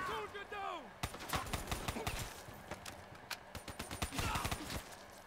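A gun firing in Call of Duty Black Ops 3: a rapid, uneven string of sharp, close shots in quick bursts, following a brief electronic sweep at the start, with no talking.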